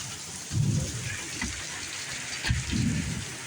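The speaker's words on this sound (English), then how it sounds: "It's raining." Steady rain falls in Texas as a dense, close hiss, with low thunder rumbles swelling twice beneath the downpour.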